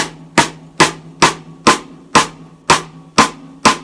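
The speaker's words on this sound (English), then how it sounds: "that nice loud click sound that's a perfect balance between kind of thin and" Nine sharp cross-stick clicks on a snare drum rim, struck with the stick laid across the head, ring out alone at a steady, evenly spaced rhythm, loud and close with short decays.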